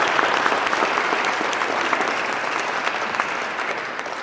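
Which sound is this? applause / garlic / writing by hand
applause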